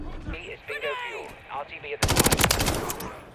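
Gunfire in Modern Warfare III starts as a rapid burst of automatic shots after a stretch of speech, loud and close, with a player talking before the shooting begins.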